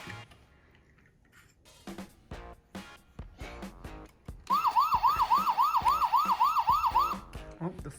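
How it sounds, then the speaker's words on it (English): A toy fire truck's electronic siren wails in a fast, looping rise and fall after scattered clicks and taps of toy play, loud and close for several seconds. "Oh, the fire siren's going off."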